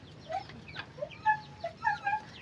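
Small chicks peep in scattered, faint, high chirps as the larger ones are moved out of a crowded indoor pen to another spot.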